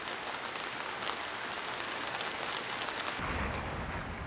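Late autumn rain falls in an even, continuous hiss, close and moderately soft, with no voices.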